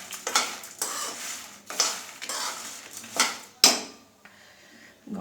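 Spices roasting in a dry pan, stirred with a metal spoon in a few distinct rhythmic bursts of scraping and rattling against the pan, each swell fading before the next, with a faint sizzle in between.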